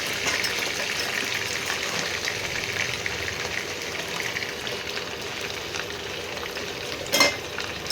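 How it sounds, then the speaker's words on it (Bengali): Chicken pieces fry in a pan of hot oil for a spicy chicken curry, giving a steady, close sizzle that runs the whole time, with a brief louder crackle near the end. "বাকি মাংস আরও কিছুটা আছে, সেগুলো এবারে ভেজে নেব"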